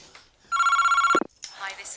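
A telephone rings with a sustained electronic trill lasting about two-thirds of a second, loud and close, then cuts off abruptly with a clunk as the handset is lifted, followed by faint voices.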